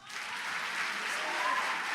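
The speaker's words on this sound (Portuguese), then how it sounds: "Então vamos aplaudir Jesus?" A church congregation at a Sunday celebration service bursts into sustained, dense applause that swells quickly and holds steady, filling the room with no voices standing out.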